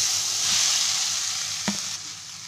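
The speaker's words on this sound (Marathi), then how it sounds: "आता घीमध्ये गाजर टाकला आहे," Carrots sizzling in hot ghee for carrot barfi, a loud continuous hiss close up, with a brief scrape of stirring near the end.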